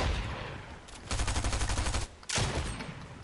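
Gunfire in Fortnite: a rapid stream of shots, then a brief pause and another burst, close and loud over a busy game background.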